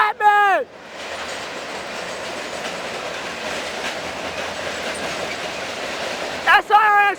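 A Norfolk Southern freight train rolls steadily past close by, boxcars including a waffle-style car loaded with lumber, with a continuous rumble and wheel clatter bracketed by brief squealing tones at the start and end.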